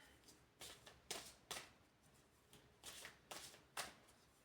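Oracle cards being shuffled by hand in repeated soft riffling bursts, about eight quick papery swishes at fairly low level, close by with no talking.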